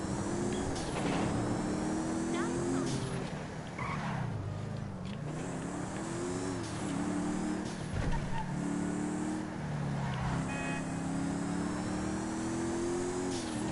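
A car in the video game GTA 5 drives along with a steady engine tone that rises and falls through gear changes, with occasional tire skids, moderately loud and close.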